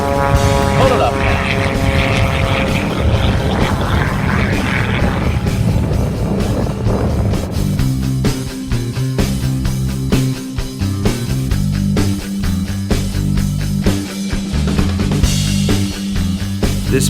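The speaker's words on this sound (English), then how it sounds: "All the way down the shoreline, just inches above the ground, is Mike Wiskus in the Lucas Oil Pit Special." A Lucas Oil Pitts Special aerobatic biplane flies low along the shoreline at a Myrtle Beach air show, its loud propeller engine roaring and shifting pitch as it passes, with crowd and announcer noise underneath.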